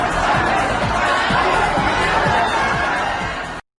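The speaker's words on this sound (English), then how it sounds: "Party sounds." A lively party crowd with many overlapping voices chatting and bursts of laughter, a continuous busy indoor murmur at steady volume.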